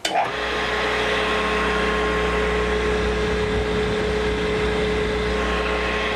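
A drill point grinding machine's motor hums steadily at close range after a brief start, with a constant mechanical drone and a high whine running throughout.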